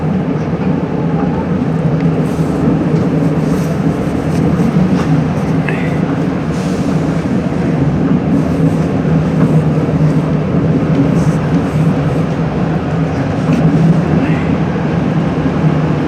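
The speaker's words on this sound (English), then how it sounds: "Oh, there's another train coming." A Metro-North commuter train rumbles steadily from inside the cab while another train approaches and passes, a loud continuous low roar with faint squeals and no clear peak.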